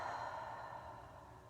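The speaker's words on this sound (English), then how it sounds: "Take a deep inhale and exhale your air." A long, steady exhale during a Pilates breathing exercise: soft, airy and fairly quiet, fading slightly as it goes on.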